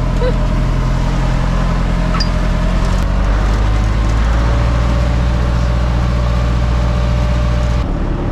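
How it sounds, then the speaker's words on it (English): A tractor engine drones steadily and loudly while driving through shallow ocean water, with a low rumbling hum and faint rattling, continuous throughout. "Never thought we'd be in a tractor in the ocean."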